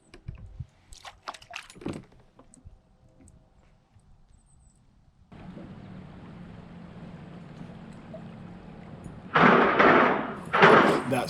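A vehicle crosses the metal plate on the Caney Creek bridge on Watts Bar near Knoxville, heard from a kayak on the water as distant traffic rumble followed by two loud, hollow metallic clanks near the end.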